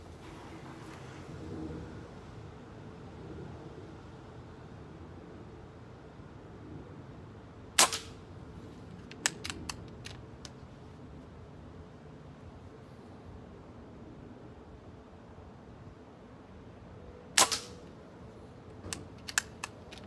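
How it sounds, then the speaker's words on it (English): A .22 caliber air rifle firing Crosman Premier pellets outdoors, giving a few sharp, quiet cracks spaced well apart, each followed by faint distant clicks over a soft breezy background hiss. "we're gonna shoot the Crossman Premiers first"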